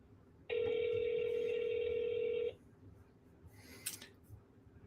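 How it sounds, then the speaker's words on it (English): A single long steady phone tone on an auto dialer lasts about two seconds, followed by a faint brief rustle, with no talking. "here we are, and we're just going to dial"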